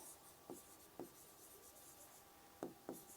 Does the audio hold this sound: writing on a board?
yes